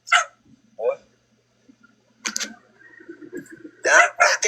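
A dog barking and yipping in short bursts, close by, mixed with people talking nearby.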